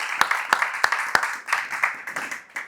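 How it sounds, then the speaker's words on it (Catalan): An audience applauds the official poster designer at a cinema event, with a few sharp, evenly spaced claps up front and a softer, scattered round of clapping continuing beneath. "Un aplaudiment per en Paco"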